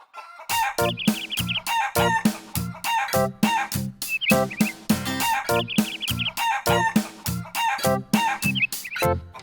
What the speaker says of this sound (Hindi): रहती जिसमें थी मुर्गियाँ अनेक, E-I-E-I-O। फिर क्लक क्लक इधर और क्लक क्लक उधर